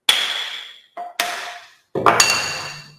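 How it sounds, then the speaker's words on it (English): Four sharp metallic taps of a plane hammer on a hand plane blade, each ringing briefly before fading, with short gaps between the first three and a louder final strike. "using a plane hammer"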